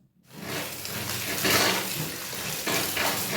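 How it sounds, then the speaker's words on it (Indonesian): Cooked food rinsed under a running kitchen tap, a steady loud rush of water splashing into a sink for a few seconds with no talking. "Kita bilas pakai air mengalir ya."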